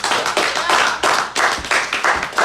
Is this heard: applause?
yes